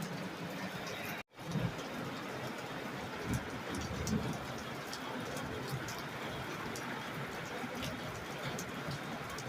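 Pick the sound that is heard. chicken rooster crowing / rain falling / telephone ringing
rain falling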